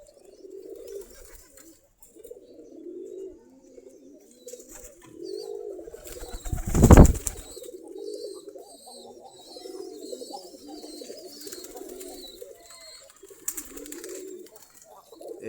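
Local Giribaz pigeons coo in their coop, a series of soft, low, throaty coos repeating close by, with one sharp loud bump and occasional faint wing or rustle sounds.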